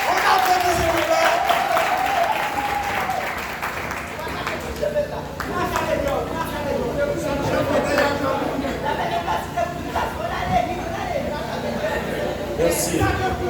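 An audience at an eloquence debate contest applauds after a rebuttal, clapping mixed with chatter and murmuring voices, with a voice speaking over it near the start.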